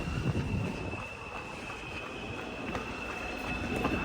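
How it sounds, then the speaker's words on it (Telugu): A subway train pulls into a station in Korea with a steady low rumble of wheels and carriages, plus a thin high whine from the rails, close and continuous with no talking. "ట్రైన్ వచ్చినట్టుంది"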